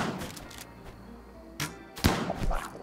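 Gunfire in the colony game Rimworld sounds as a few sharp, close shots, one soft crack followed by a louder burst near the end over quiet ambience.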